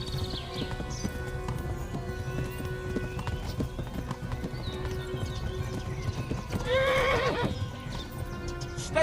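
Horse hooves clip-clop at a steady gallop in the medieval game Kingdom Come: Deliverance, with a loud, close neigh near the end over continuous game ambience.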